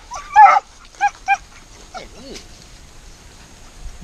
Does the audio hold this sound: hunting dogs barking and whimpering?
yes